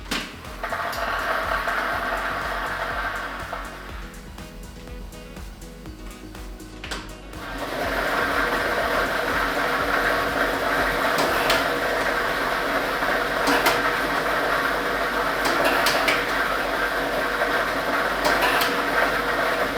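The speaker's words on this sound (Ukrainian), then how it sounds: "І ми вмикаємо лототрон." A lottery ball drawing machine, drum A with ball set number 2, is switched on for a Loto Maksyma draw and runs with a steady loud whirring rush and rattling balls, briefly dipping before surging back continuously.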